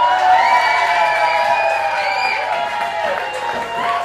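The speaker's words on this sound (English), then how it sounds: "big round of applause for Mr. and Mrs. Evans." Wedding guests cheer and applaud for the newlywed couple at Westover Hall in the New Forest, a steady crowd roar of clapping and whoops that holds throughout with no clear breaks.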